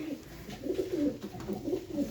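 Pigeons at a Punjabi pigeon keeper's loft give low, throaty coos that swell and fade in repeated rounds, moderately close, with no talking over them.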